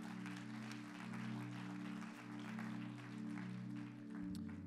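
A church audience claps in a soft, continuous patter, fairly quiet and even, with sustained musical tones droning beneath it.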